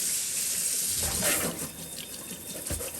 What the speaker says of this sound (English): I'll normally just let it sit here and run under water, some warm water for a little bit